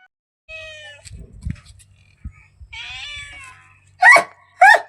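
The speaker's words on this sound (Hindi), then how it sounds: "ये पता नहीं किसकी बिल्ली थी, तो हमारे घर में आई थी, आवाज़ करने में लगी थी" A stray cat visiting a village home calls out with several meows, two sharp loud cries near the end standing out after quieter, drawn-out whining tones, with faint background noises between them.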